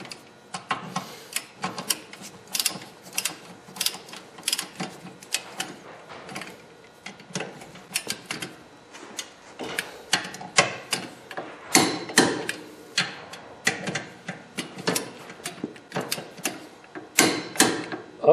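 Repeated clicking and ratcheting from a torque wrench as the front caliper bracket bolts on a Honda Civic are tightened to 80 foot-pounds during a wheel bearing job, close-up bursts of clicks and metal handling spread across the clip without talk.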